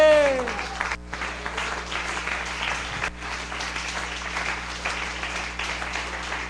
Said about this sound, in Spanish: A ver, un aplauso para él.